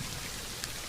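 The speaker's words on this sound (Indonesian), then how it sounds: "Gerimis teman-teman." Light drizzle falls outdoors as a soft, even hiss of rain on surfaces, brief and fairly faint.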